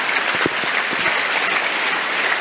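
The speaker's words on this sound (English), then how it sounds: "an impeccably observed minute's applause" Ice hockey arena crowd giving a steady minute's applause before a Coventry Blaze versus Cardiff Devils game, dense continuous clapping filling the space with a few louder close claps standing out.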